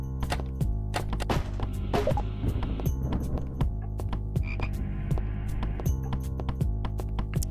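Repeated loud frog croaks from a horror house-exploration video game, a rapid rhythmic series of close, layered calls with clicking knocks throughout, and no talking.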